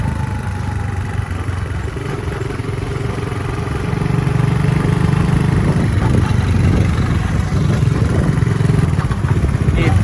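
A Vespa scooter rides past on a city street, its engine drone rising and staying loud and close over steady traffic rumble, with no talk.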